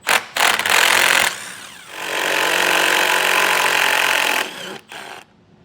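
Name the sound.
removing 10mm screws from a vehicle's underside panel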